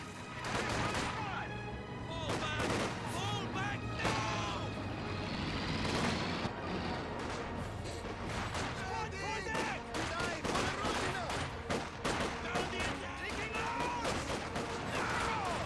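Battle sounds from the Company of Heroes 2 strategy game, with dense rapid small-arms gunfire crackling continuously alongside vehicle noise and a voice talking over the action.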